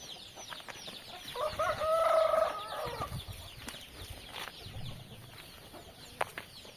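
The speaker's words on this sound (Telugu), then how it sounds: "ఈ మామిడి తోటలో ఉంటాయి కోళ్ళు" Chickens and roosters on a farm inside a mango orchard, kept in a mesh enclosure, give a drawn-out clucking call near the start amid a busy background of softer bird noise and rustling, fairly distant and moderate in level.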